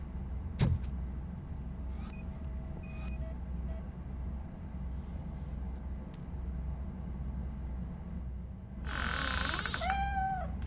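A cat meows in RoboCop: Rogue City gameplay, a couple of short meows near the end over a constant low ambient hum, with scattered faint clicks and tones earlier.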